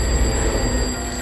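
A telephone rings in a horror film, a steady electronic ring filling the short moment alone with no voices over it.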